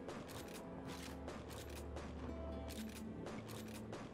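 Several sharp, booming shotgun blasts from the video game Shank, fired in quick pairs and spaced irregularly, with faint game music humming underneath.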